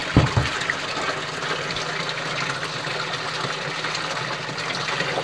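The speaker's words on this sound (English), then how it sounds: "turn the pump back on, wait for that to build up a little bit, and then open the slide valve, let that fill back up." Water gushes steadily into a koi pond filter as it refills after the pump is restarted and a slide valve opened, a continuous close rushing wash with a few thumps at the start.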